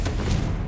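A short, booming fire-spell explosion from Confringo in Hogwarts Legacy, a dense full-bodied blast that fills the whole brief moment at close range.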